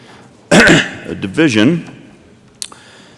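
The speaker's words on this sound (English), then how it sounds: "Got a cough coming on." A sudden harsh cough followed by raspy throat clearing, close and loud, then a short click near the end, in a state senate chamber.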